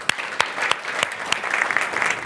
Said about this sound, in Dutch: Mag ik een heel hartelijk applaus voor mijn allereerste gast